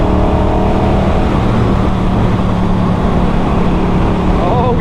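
Norton Commando 961 SP motorcycle engine running steadily while riding over uneven road, a loud continuous rumble with wind noise throughout and no clear gear changes.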